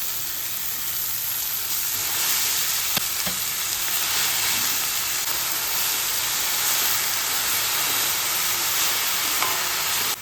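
Fenugreek leaves tipped into a hot pan already seasoned with turmeric for Maharashtrian methi bhaji set off a loud, steady sizzle that holds unbroken throughout, with no talking.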